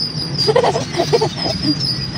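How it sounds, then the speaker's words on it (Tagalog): Several loud bird calls chirp in quick bursts, close by, over a steady outdoor hum with no one speaking. "sobrang ingay ng mga huni ng ibon na hindi niya makita"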